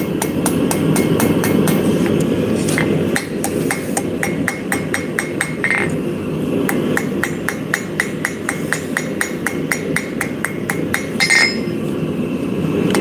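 Steady rapid hammer taps ring out on a blade being forged, working the tip down over a post vise; the close, metallic strikes come in quick runs over a constant roaring background hum, with a few brief pauses.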